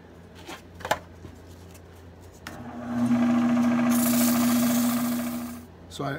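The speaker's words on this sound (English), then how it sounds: "I'm going to start sanding here at 150." A turned wooden salt shaker and peppermill piece is sanded on a lathe with 150-grit paper, a soft rasping rub that builds into a loud, continuous whirring scratch over a steady motor hum, following a few light taps.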